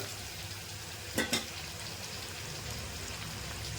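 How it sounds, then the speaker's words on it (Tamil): Chopped onions sautéing in a pan for a tamarind rasam: a steady, low frying hiss runs throughout, broken by two quick scraping stirs near the middle. "வெங்காயத்தை கொஞ்ச நேரம் இப்படி வதக்கணும்"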